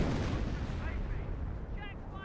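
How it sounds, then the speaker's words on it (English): A 25-pounder artillery gun fires in the Company of Heroes video game, heavy booming shots rumbling amid dense battle noise. "Pretty sure that was 25 pounder."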